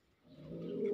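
Pigeons cooing at their coop on a hot morning, one soft, throaty coo swelling in loudness over about a second, close by with no talk.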